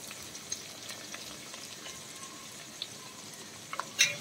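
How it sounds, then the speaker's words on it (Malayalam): Chopped onion sautés in a pan for a squid roast, giving a soft, steady sizzle with a few faint clicks near the end. "സവാള നന്നായിട്ട് വഴറ്റിയെടുക്കണം."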